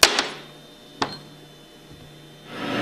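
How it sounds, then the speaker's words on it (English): A hammer taps a screwdriver to drive out the steel casing of a Hypro roller-type pump seal, giving two sharp metallic strikes close together, a third a second later, and a faint knock after that. "tap it out with a hammer."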